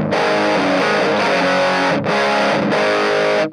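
Electric guitar through a Fender Mini Tone Master amp set to a darker, warmer tone, playing loud sustained distorted chords in three strums with brief gaps, alone with no talk.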